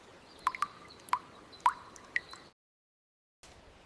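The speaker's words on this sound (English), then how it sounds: "The tap is dripping water." A tap drips water in a quick, irregular series of about five sharp, bright plinks over a faint hiss, close and quiet, then cuts to silence before a soft hiss returns.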